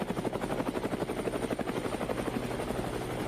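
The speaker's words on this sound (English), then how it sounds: "The helicopter kept gliding across the sky." A helicopter flying overhead on a wild hog hunt, its rotor thumping in a fast, steady rhythm, loud and continuous, with a droning engine beneath it.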